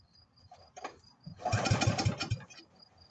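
A 1967 Jacobsen Chief tractor's small engine is pull-started, with a couple of rope-pull clunks before it catches and chugs loudly in a burst of sputtering firing up close.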